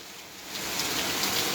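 Early-morning rain falls steadily on a surface, a soft hiss that swells slightly louder after the first half-second, with no voices.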